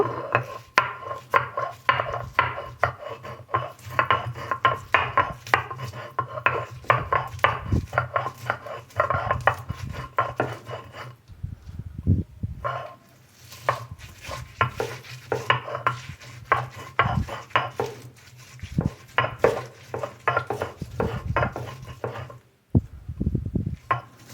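Cauliflower leaves with garlic and salt being ground by hand into a mash, heard as repeated rubbing, scraping and knocking strokes in an uneven rhythm, close and fairly loud with no talk.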